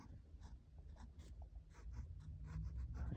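Handwriting with a pen on paper, quiet scratchy strokes in short repeated bursts, close and soft against a faint room background, no talking.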